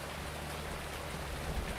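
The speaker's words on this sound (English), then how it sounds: "Jeez, that rain's awful." Steady, dense rain pours down in a farming video game, a continuous broadband hiss of drops with no voices over it.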